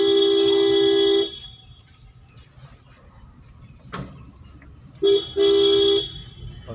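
A car horn honks on a road during a drive to a Durga Puja pandal in Kalyani, giving a sustained loud blast, a quiet gap of traffic rumble, then a short toot and another long blast.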